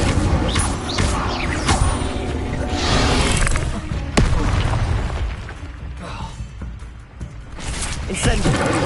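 An Incendio fire spell goes off in Hogwarts Legacy, a loud whooshing, crackling burst of game effects that mixes with booming impacts and dense battle noise, with a voice calling out spell names over it.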